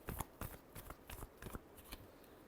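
Tarot cards riffled and shuffled by hand in a quick series of soft papery bursts, fairly faint and close, with no talking.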